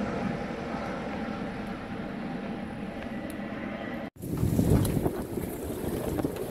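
Strong wind of at least 25 knots roars across a boat anchored at Sucia, a steady loud rush buffeting the microphone, briefly cutting out, then returning even stronger with gusty surges.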